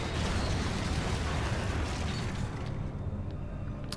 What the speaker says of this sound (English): we're leaving the place with another explosion.